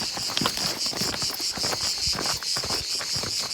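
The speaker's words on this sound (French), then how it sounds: "Et les grillons sont toujours là" Crickets chirp in dense, continuous trills in the rocky calanques of southern France, loud and close, forming an unbroken insect chorus with faint rustling beneath and no talking.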